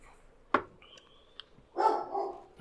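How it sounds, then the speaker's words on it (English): A dog barks indoors, a sharp single yap followed later by a longer, rougher bark, heard a little distant and moderately loud over a quiet room. "Tell your dog to hush."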